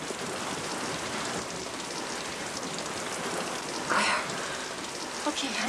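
Steady rain falls outdoors, a soft continuous hiss of drops on surfaces with a brief louder patter midway, fairly faint and without talk.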